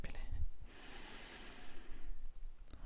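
A slow, steady breath drawn in and let out during a French guided meditation, soft airy rushing that swells for about a second and a half, with no talking over it.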